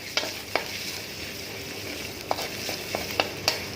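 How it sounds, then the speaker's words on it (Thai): Thai curry paste stir-fried in oil in a pan for a dish with long beans and pork belly, giving a steady close sizzle with sharp clicks and scrapes of a spatula scattered through it. "ผัดให้หอมนะฮะ"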